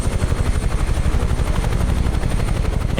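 A UH-1H helicopter in Microsoft Flight Simulator, its rotor thumping in a fast, steady beat over a loud continuous engine roar, heard alone throughout.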